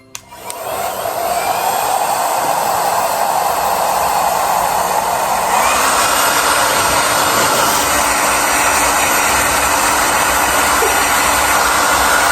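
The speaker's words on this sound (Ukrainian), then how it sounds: "це саме звичайний фен. Просто від Xiaomi. Все. Ну давайте підключимо." A Xiaomi hair dryer whirs steadily at close range, its broadband airflow roar shifting in pitch partway through as the setting changes, with no talking.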